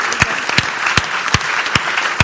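A church congregation applauds a wedding couple, Uel and Shannelle, with steady close clapping and a few sharper individual claps standing out.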